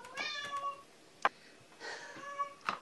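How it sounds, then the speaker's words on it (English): A domestic cat meows in a home, two or three harmonic, wavering cries spaced across a few seconds with a sharp click between them, close by against a quiet room. "That's Panic the cat in the background, who's causing some trouble in the household these days"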